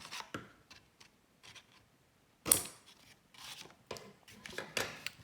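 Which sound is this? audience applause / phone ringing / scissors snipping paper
scissors snipping paper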